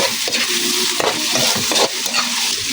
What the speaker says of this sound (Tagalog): Magigisa muna tayo ng bawang, sibuyas